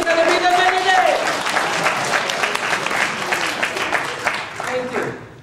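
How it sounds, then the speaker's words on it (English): A conference audience breaks into loud, close applause that carries on for several seconds, and voices and a short tonal sound come through over the clapping. "give her a round of applause"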